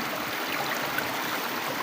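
Water flowing beside the Biak na Bato bat cave, a steady broadband rush of a stream heard close and continuous with no pauses.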